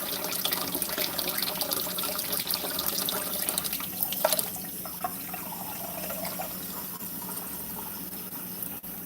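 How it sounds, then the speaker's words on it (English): Water runs steadily from a kitchen faucet, a continuous close splashing stream with small surges and no talking. "we're going to add 1 cup of water from the faucet"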